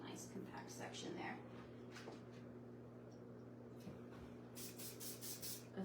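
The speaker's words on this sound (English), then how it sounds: "A few really light sprays with brush shoe hairspray" Hairspray goes onto long curly hair being set in a textured updo: soft brushing and rubbing sounds first, then four quick, light, hissing spray bursts close by near the end.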